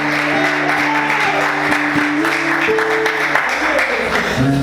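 A church congregation applauds steadily throughout, a dense wash of clapping under sustained tones and faint voices, at moderate to close range.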